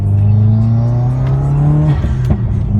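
Subaru WRX (2015+) fitted with a COBB intake accelerating hard in second gear, loud steady engine note rising in pitch for about two seconds before a shift, heard from inside the car with windows up.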